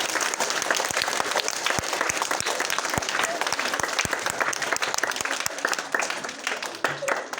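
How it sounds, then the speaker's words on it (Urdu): A group of children applauds, with a dense, steady wash of clapping and a few sharper individual claps standing out, fairly distant and unbroken throughout. "شاباش, پیچھے جاؤ, تالی بجا دو."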